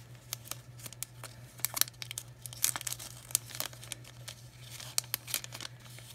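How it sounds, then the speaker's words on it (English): A 2x8 cellophane bag crinkles and rustles up close, a busy run of sharp crackling bursts with a low steady hum beneath and no voices. "And then I take just some cellophane bags."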